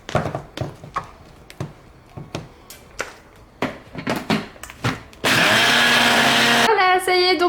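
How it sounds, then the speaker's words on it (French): A kitchen blender whirs loudly and steadily as it purées a drink with Berry Boost powder. It follows a run of irregular knocks and clatter, then cuts to a pitched whine at the end. "je vais mixer tout ça"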